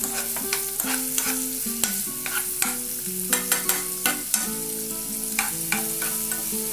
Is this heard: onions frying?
yes